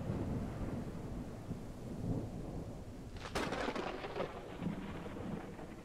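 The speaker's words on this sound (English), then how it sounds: "that lightning sound and thunder sound is really good" Rain falls steadily in the Outbreak Island video game, then a sharp lightning crack bursts in, followed by rolling thunder that rumbles on beneath the downpour.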